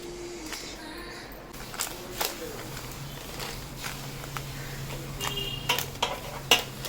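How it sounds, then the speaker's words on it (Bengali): Chicken pieces for a dry chilli chicken roast are tipped into an air fryer basket and stirred, giving scattered clinks and scrapes of utensils against the pan over a low steady hum, with a few sharper knocks toward the end. "এর মধ্যে ঢেলে দিলাম, মাঝে মাঝে আমি একটু নাড়াচাড়া করে দেব।"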